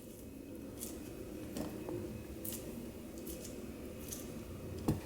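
Small pieces of Bounty bar being cut into cake batter, faint soft snips and squishy clicks scattered through a quiet kitchen background, close but low in level, with a slightly sharper sound near the end.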